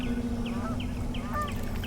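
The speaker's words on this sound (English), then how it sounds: "Flocks of birds are migrating south." Migrating geese call across a quiet wilderness anchorage at dusk: a series of honks, about one every half second, each short and clear over a steady low rumble.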